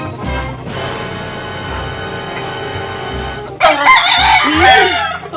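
A rooster crows loudly and close by, with one long sustained call followed by a harsher, broken crow, while other fowl cluck in the background.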